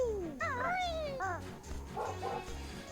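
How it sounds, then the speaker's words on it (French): A dog outside gives a run of high, yelping whimpers and short barks, fairly faint beneath steady background music and electronic tones. "il y a mon chien qui crie dehors"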